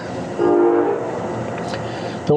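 A train rumbles past nearby with a steady roar, its horn sounding loudly near the start over the rolling noise.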